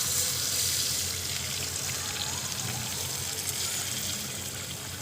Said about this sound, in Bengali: এখন এর মধ্যে অ্যাড করে দেবো পরিমাণ মতো জল, যাতে করে আলুটা খুব ভালোভাবে সিদ্ধ হয়ে যায়।